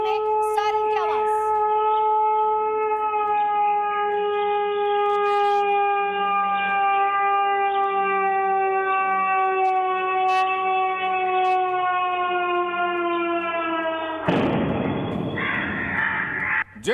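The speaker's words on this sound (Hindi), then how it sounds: "लाहौर में सायरन की गूंज साफ तौर पर सुनाई दी है।" A steady, multi-toned air raid siren wails continuously and loudly over Lahore for most of the clip, then gives way abruptly to a burst of broadband noise near the end.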